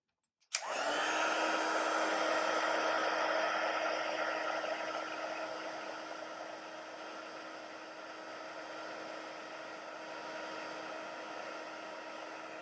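A heat tool blows steadily while heat embossing a handmade card, switching on abruptly and holding a constant whirring hum that eases slightly over time, with no talk.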